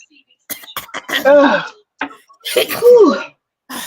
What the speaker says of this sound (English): I had to clear my throat again